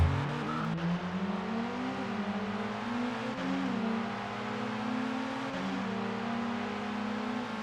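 A Lotus 340R race car in ToCA World Touring Cars revs hard through several gear changes, its engine note climbing, dropping at each shift and climbing again, loud and steady, with no voices.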